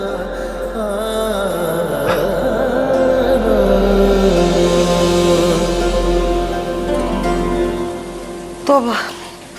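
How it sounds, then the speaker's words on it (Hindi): Heavy rain falls steadily and without pause as a constant wash of hiss, with a tonal backdrop of music running beneath it. "इतनी बारिश हो रही है और मुसलसल हुए जा रही है"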